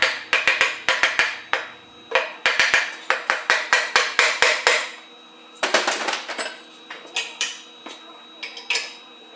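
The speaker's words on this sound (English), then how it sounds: "Tap with a soft hammer as needed." Sharp metallic taps from a soft hammer seating a Mahindra Roxor rear axle carrier into its housing, in quick bursts of repeated blows with short pauses between groups, close and fairly loud.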